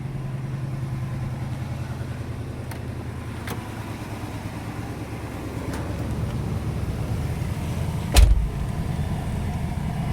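A 1977 Pontiac Grand Prix SJ runs steadily at idle, a low, even exhaust rumble with one brief louder thump near the end.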